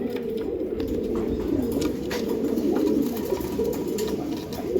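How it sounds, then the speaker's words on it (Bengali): A pair of Iranian pigeons coo in a low, continuous warble that rolls on steadily and fairly close, with faint clicks and rustles around them and no speech. "এটা ইরানি কবুতর পেয়ার কবুতর"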